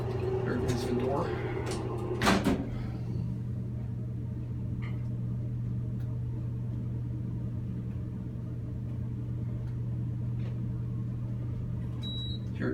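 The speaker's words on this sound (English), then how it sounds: "There goes the door." A modernized Otis hydraulic elevator at Brock University in St. Catharines slides its doors with a short clatter and thump in the first seconds, then a steady low hum of the car and machinery continues.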